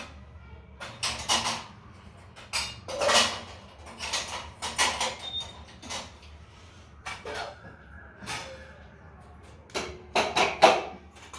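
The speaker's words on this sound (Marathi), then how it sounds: "अशा प्रकारे भांडी सगळीकडे जागच्या जागी लावून टाकलेली आहे" Dishes, pots and pans being put away in a home kitchen, a series of irregular metallic clatters, clinks and knocks close by, with short pauses between bursts and a quiet room behind.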